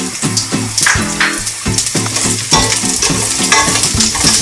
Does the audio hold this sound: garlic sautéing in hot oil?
yes